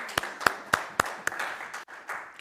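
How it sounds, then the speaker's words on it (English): A lecture audience at a Sasol TechnoX mathematics talk claps, with several sharp, evenly spaced claps from one pair of hands up front over faint scattered applause that fades after about two seconds. "we need to clap hands for ourselves"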